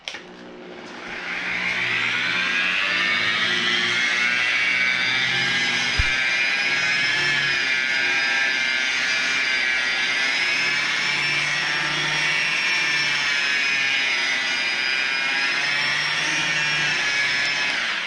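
A polisher with compound on its pad buffs a faded carbon fiber car hood, starting after a brief moment and then whirring as one loud, steady high-pitched drone that barely changes until the end.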